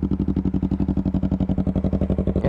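A Yamaha R3 motorcycle engine, heard from about 20 feet away, runs with a fast, even pulsing throb that stays steady and fairly loud throughout without a clear rise in pitch.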